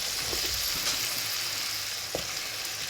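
Potatoes and onions fry in melted butter for pan haggerty, a steady close sizzle with a few soft clinks and scrapes, no voices.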